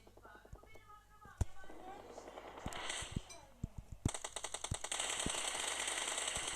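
PUBG Mobile gunfire, with sharp single shots and rapid bursts at irregular intervals, close and fairly loud over a steady background hum, while a player talks quietly at times.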